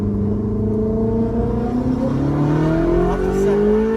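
A Ferrari F430 engine pulls hard in first gear, its loud tone climbing steadily as revs rise over four seconds, with a deep rumble underneath and no pause.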